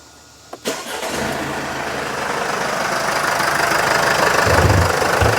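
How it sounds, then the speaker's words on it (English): A Sprinter van's diesel engine, close to a million miles old, cranks with a sharp click and catches, then settles into a loud, steady, clattering idle that slowly builds in intensity. "I'm gonna start the engine"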